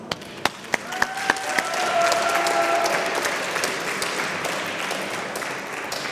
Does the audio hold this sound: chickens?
no